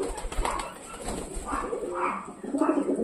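Pet pigeons coo softly at close range, with several low, rounded calls overlapping across a few seconds and faint rustling in between.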